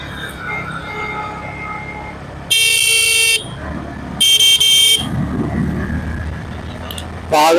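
Car horns honk in loud, sustained blasts on a wide road, one long blast then another, with a brief final toot, over steady traffic noise while someone talks throughout.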